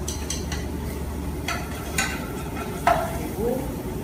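Garlic sautés in melted butter after bacon in a pan for tomato sauce, a soft, steady sizzle under light clinks and scraping of a utensil against the pan, with no voices.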